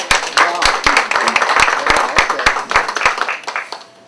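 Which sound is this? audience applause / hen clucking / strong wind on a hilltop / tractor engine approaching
audience applause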